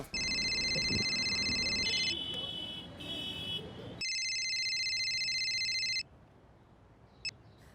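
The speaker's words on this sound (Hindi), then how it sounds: "जरा फोन लगाओ सुनीता दीदी को।" An electronic phone ringtone trills in long, repeating bursts of bright tones, then cuts off, leaving a quiet room.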